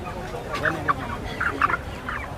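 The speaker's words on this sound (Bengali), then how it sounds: "দর্শক দেখতে পাচ্ছেন এ পাশে বিক্রি হচ্ছে পোলট্রি মুরগি" Poultry chickens at a busy village market cluck in short scattered calls, several distinct bursts over a steady murmur of background crowd noise.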